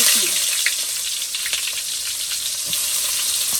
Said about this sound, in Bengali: তেল গরম হয়ে গেছে। এখন আমি পেঁয়াজ দিয়ে দিচ্ছি।